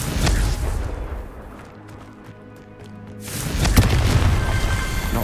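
A Confringo explosive spell goes off in Hogwarts Legacy, with heavy booming blasts at the start and again near the end, separated by a quieter stretch of rumbling game ambience.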